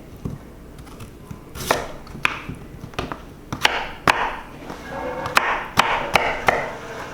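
Knife chopping peeled beets on a cutting board, about a dozen sharp, irregular thuds spaced through the clip, close and fairly loud with no talking.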